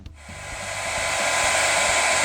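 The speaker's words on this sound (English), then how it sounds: "Because I know how to drive a hairdryer." A hair dryer heating shrink tubing during a motorhome solar install blows steadily and loudly, a continuous broadband whoosh with a low motor hum, building slightly after starting and holding constant.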